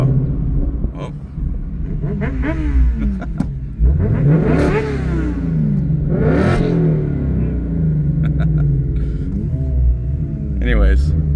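Ford Mustang Dark Horse with a Corsa Xtreme exhaust revving hard, loud deep rumble rising and falling through several throttle blips close by, with a voice speaking over parts of it.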